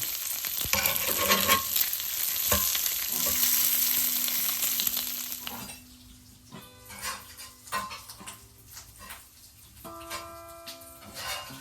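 Bacon frying in a pan while cooking off-grid: a loud, dense sizzle that later drops to softer crackling with scattered ticks and light clinks, close by and with no talking.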